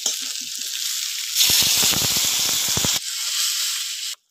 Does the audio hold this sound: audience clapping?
no